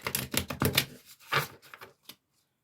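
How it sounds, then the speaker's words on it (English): Tarot cards are shuffled by hand in a quick run of crisp riffling bursts, close and fairly loud, then a brief pause, a final short riffle and silence. "And then one more shuffle."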